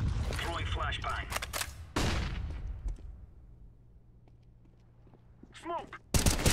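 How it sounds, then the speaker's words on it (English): A flashbang is thrown in the video game Counter-Strike amid loud bursts of gunfire and sharp blasts, with a quieter lull in the middle and game voices speaking briefly at the start and end. "Throwing flashbang."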